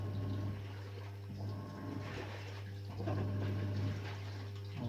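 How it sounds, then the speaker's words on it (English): A Samsung 6.2kg fully automatic diamond drum washing machine runs its wash cycle, a steady motor hum under sloshing, swirling water as the drum rotates, fairly quiet and continuous. "now the washing has started. See how the machine is rotating."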